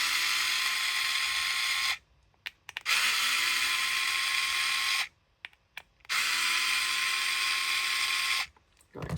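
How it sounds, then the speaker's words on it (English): An electric power tool undoes Torx bolts on the cover of a Flash Emulator V7 Midi unit, running in three loud, steady whirring bursts of about two to three seconds, each cut off by short pauses. "I'm going to use an electric tool just to make it quicker"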